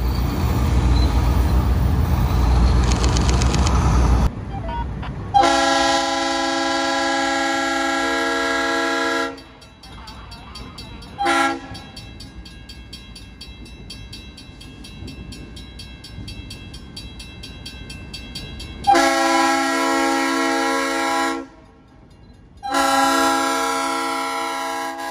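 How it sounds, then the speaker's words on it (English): A former Florida East Coast Railway GP9 diesel locomotive sounds long, loud horn blasts in several separate bursts, with a low diesel rumble between them. "Its former FEC GP9 number 661 still with its original configurations"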